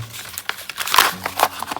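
Plastic Pokémon card booster pack wrapper crinkling in short bursts, close up, with a sharper rustle near the middle; no one speaks.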